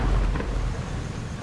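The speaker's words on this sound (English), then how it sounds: "It's all rainy. All splashy and wet." Rain and rolling thunder in a pirate survival game, a dense, steady wash of heavy downpour with a deep low rumble, loud and close with no talk.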